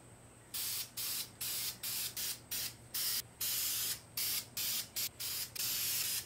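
An aerosol can sprays paint onto a motorcycle radiator guard for a Kawasaki Z900 in about sixteen short, close hissing bursts of uneven length with brief pauses between them.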